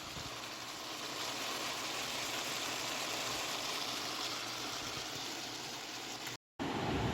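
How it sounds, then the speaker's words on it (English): Steady broadband hiss and crackle of food frying in a pan, continuous and close, cutting out briefly near the end. "It's starting to sizzle."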